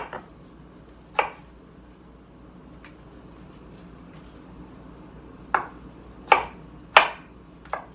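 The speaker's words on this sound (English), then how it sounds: "I'm going to chop up 4 onions, just sliced finely" A kitchen knife chops through green onions on a board, sparse crisp thuds spaced apart, then a cluster of several sharper cuts near the end, close and clear with no talking.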